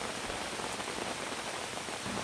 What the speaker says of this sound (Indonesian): Nah hujannya mulai makin gede ya